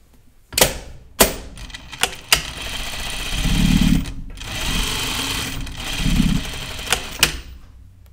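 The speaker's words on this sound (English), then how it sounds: "let me stitch my seams" A sewing machine stitches skirt seams in short bursts of fast whirring, broken by sharp clicks and clunks of the mechanism between runs, close and fairly loud.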